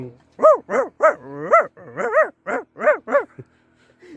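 A human voice imitates dogs fighting, with a rapid series of yelping, snarling barks and whines in an uneven rhythm.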